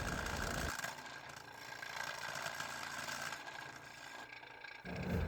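A wood lathe spins a stick for a spatula while a skew chisel cuts, giving a quiet, steady whirring hum with a faint rattle from a loose tailstock, broken by brief louder bumps at the start and end.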